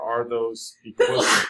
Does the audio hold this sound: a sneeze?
yes